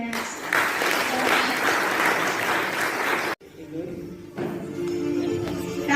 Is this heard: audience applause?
yes